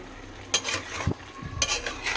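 Fish being stirred in a frying pan: a soft sizzle sits under several distinct scraping strokes of a utensil against the pan, spaced irregularly and close by.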